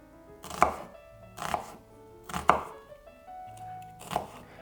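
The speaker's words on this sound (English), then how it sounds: "The best way to go about dicing an onion" A knife dices an onion on a chopping board, making four distinct, evenly spaced chops with a woody thud, close and clear with quiet pauses between them and no talking.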